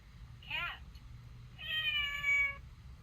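A cat's meow played from a children's sound book, two short electronic mews, the second longer and drawn out, heard fairly faint over a quiet room.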